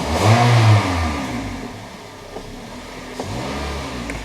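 2006 Toyota Corolla engine revving up as the gas is pressed, with a ticking noise under acceleration. The loud surge of engine sound falls back to a lower steady hum, with a few faint clicks after it and no talking.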